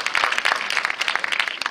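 Cinema audience applauding at a film premiere screening, a dense burst of many hands clapping fairly loudly and close, continuous across the short span.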